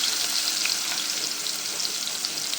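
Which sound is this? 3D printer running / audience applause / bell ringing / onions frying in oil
onions frying in oil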